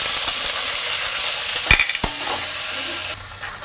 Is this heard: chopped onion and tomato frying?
yes